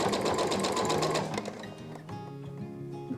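A sewing machine stitches a garment at close range in a rapid, steady run that slows and changes pitch partway through, with no talking over it.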